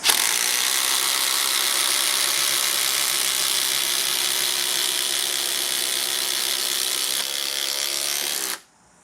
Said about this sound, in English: Right, we're going to drive some 150mm battens.